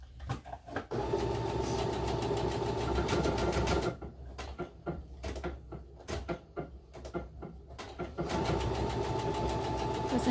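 A Baby Lock Soprano sewing machine stitches a buttonhole: steady rapid mechanical whirring with needle clatter, briefly slowing into separate stitches midway before running at full speed again, close and fairly quiet.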